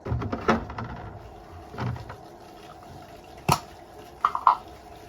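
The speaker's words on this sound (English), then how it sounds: "That's water, because I have the tubes, like the tubes go right through my room" Water runs through pipes passing through a student dorm room, a steady low rushing wash with a few faint drips and clicks on top, fairly quiet and continuous.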